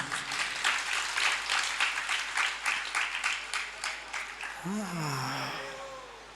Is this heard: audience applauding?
yes